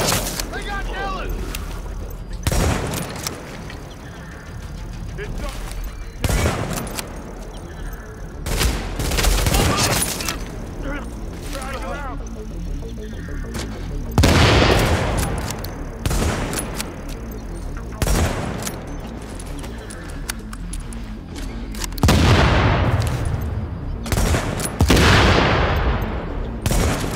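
Bursts of gunfire and explosions from The Division video game, set at a Queens tunnel camp, crackle in repeated loud volleys over several seconds, with intermittent shouted voices mixed in.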